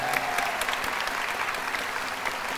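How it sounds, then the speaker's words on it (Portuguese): Audience applause at a fashion catwalk show in a Brazilian shopping mall, a steady, dense clatter of many hands clapping that holds evenly throughout. "uma salva de palmas pra ela!"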